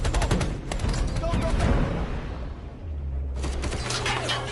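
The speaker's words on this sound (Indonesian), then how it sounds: "Neteyam dan Lowak kemudian menyerang beberapa prajurit RDA menggunakan tembakan" Rapid bursts of gunfire from the film Avatar: The Way of Water crackle over a dense, roaring action soundtrack, then ease briefly before another volley starts.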